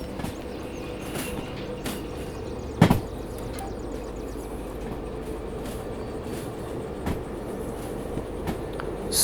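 A train rolling along in the railway game Derail Valley, a steady close rumble of cars and wheels with a sharp metallic clunk early on and faint rail clicks recurring, no talking.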